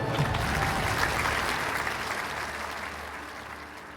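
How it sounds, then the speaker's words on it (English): Thunderous applause from a hall of convention delegates at the 1932 presidential nominating convention, heard in an old archival recording: dense, continuous clapping that fills the whole stretch and eases slightly toward the end. "the thunder of applause that followed was spontaneous, genuine, and hearty"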